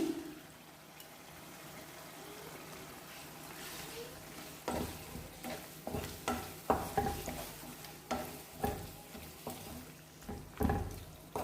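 Mushrooms sizzle and fry in masala in a pan while a spoon stirs and scrapes in repeated, uneven strokes, growing busier after a quiet start.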